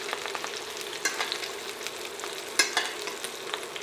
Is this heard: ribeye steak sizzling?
yes